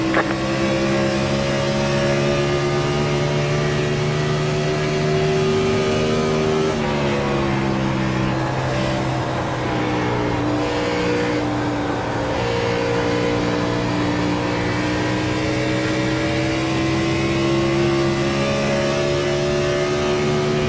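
Race car engines in the iRacing simulator drone steadily and loudly with a sustained, buzzing tone whose pitch dips and slides as the car shifts and slows, running continuously with no talk.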